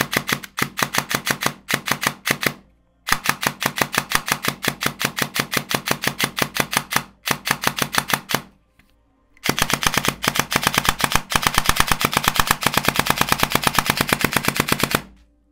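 A Warhead RONIN brushless airsoft gun fires long full-auto bursts on a fresh battery, a rapid, even rattle of shots that runs several seconds at a time with brief pauses between strings, loud and close.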